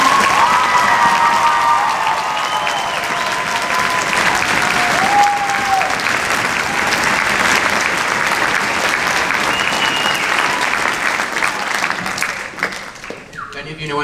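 A large crowd claps steadily and loudly for several seconds, the applause thinning out near the end.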